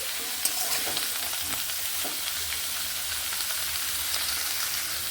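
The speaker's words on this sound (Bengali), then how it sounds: "এইভাবে নেড়ে নিচ্ছি উপর নিচ করে নিচ্ছি" Food being stirred and turned in a frying pan, seasoned with salt and turmeric: a steady, close crackling sizzle with soft scraping strokes mixed in, no voices.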